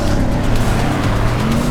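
Powerful Mercedes C63S, BMW M4 and Audi RS5 performance cars run on a race track, giving a loud, continuous, close engine roar with a hint of tire noise throughout.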